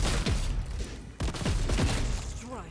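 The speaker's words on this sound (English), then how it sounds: "we're gonna have her do another burst fire" Burst fire from a Sister of Battle's gun in a Warhammer 40K game, loud rattling volleys with a brief gap between bursts, mixed with booming impacts and layered battle noise.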